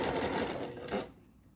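A domestic sewing machine basting ruffles onto a floral sundress at a one-centimetre seam gives a short, close, rapid whirring run of stitches that stops abruptly.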